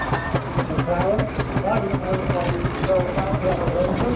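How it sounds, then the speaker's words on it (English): A steam crane engine at a steam rally runs nearby with a steady rhythmic chuffing beat and mechanical clatter, while someone talks over it. "crane engine that's coming up at the rear there"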